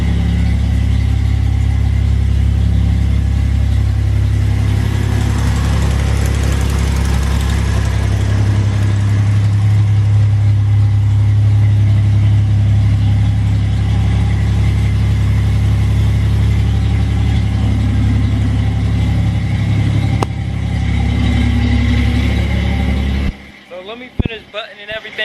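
1966 Mustang inline six with a custom exhaust idling steadily, a loud, close, deep low rumble that swells briefly before cutting off near the end.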